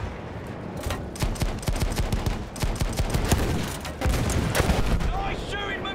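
Rapid gunfire from the World War I shooter Battlefield 1 rattles through dense bursts of automatic shots and sharper single cracks, loud and nearly continuous, with voices faintly underneath.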